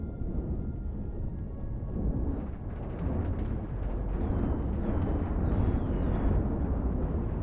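Missile explosions in the space combat game Cosmoteer rumble as dense, continuous low booms, with sharper crackling bursts and faint high chirps layered on top.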